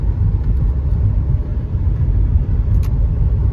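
A 2003 Toyota Camry rolls along on a test drive, its engine and road noise making a steady low rumble from inside the cabin, with no voices.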